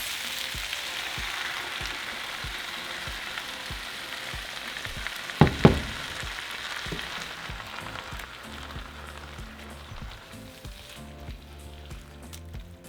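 Rajas con queso tamale filling frying in a pan: a steady close sizzle holds throughout, with a few sharp pops and clinks near the middle, and no talking.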